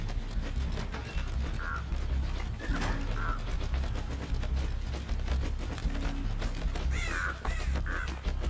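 Crows caw repeatedly in the Dead by Daylight video game, a few harsh calls rising out of a dense, steady bed of game ambience and mechanical clatter, with no talking.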